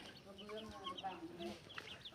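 Backyard chickens cluck and murmur in soft, scattered calls alongside other farm fowl, faint and close.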